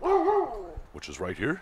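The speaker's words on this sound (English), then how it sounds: "Sorry for the dog barking in the background." A neighbour's dog barks outside in the background during an outdoor grill setup for a Kamado Joe Kettle Joe; a few short yips and barks sound in the second half while someone talks over them.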